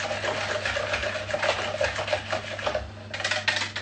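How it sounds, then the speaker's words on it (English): Yeast and sugar are stirred together in a bowl, giving a quick run of soft scraping and clinking strokes, close and fairly faint, with no talking. "Give that a little mix."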